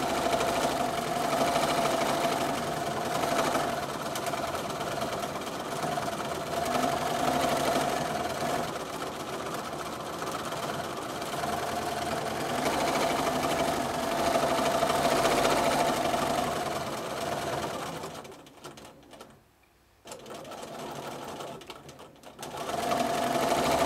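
A sewing machine stitching free-motion quilted spirals runs with a continuous fast mechanical whir and needle chatter, close and steady, briefly stopping near the end before starting again.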